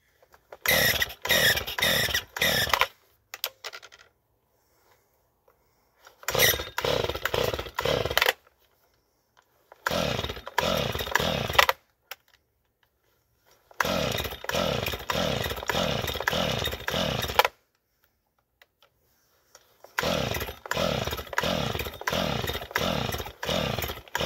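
Five bursts of rapid ratcheting pulls separated by silences as a Stihl MS 250 chainsaw's starter cord is yanked repeatedly without the engine catching.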